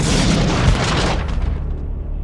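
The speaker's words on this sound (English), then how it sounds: "the devastation caused by an explosion can be employed as a method of attack in itself" A bomb blast erupts as a loud, deep boom that rumbles and then trails off into a fading roar over about two seconds.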